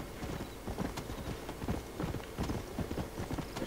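Horse hooves in Red Dead Redemption, a quick, steady clip-clop of galloping steps at moderate level over a constant background bed.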